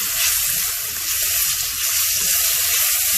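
Ginger garlic paste sizzles steadily with cooked onions in a pan for brown rice vegetable pulao, a loud, even hiss of frying with faint stirring underneath and no talk.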